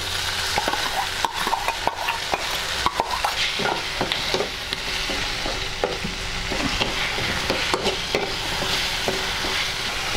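Onions and tomatoes frying in a pan with a steady sizzle, stirred throughout by a spoon that scrapes and taps the pan at irregular intervals, close and fairly loud with no talking.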